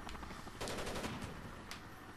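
Rapid automatic gunfire from the video game Rainbow Six Vegas 2 rattles in quick bursts, fairly faint within the game mix.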